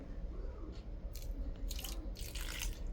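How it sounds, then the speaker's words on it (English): Saved broth is poured into a dish while making salpicón: a faint, brief liquid splash and trickle in quiet kitchen surroundings. "I'm going to put that little broth, just a little bit, that I had saved up"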